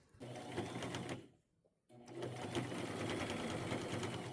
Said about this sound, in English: I'll just go to my machine, start somewhere, use a straight stitch, slightly overlap my lace